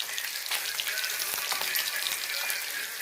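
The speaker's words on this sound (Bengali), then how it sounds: "আমার কাতলা মাছ ভাজা হচ্ছে" Catla fish pieces fry in oil in a pan, a continuous bright sizzle with fine popping and crackling, close and even from start to finish.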